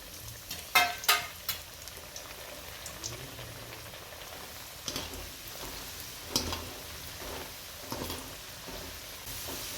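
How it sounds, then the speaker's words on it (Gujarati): Carrots and sweet potatoes frying together in hot oil for undhiyu give a soft, steady bubbling with scattered crackles and a few sharper pops early on, close by and fairly quiet, with no talking. "હવે આપણે ગાજર અને શક્કરી બે જોડે તળી લઈશું"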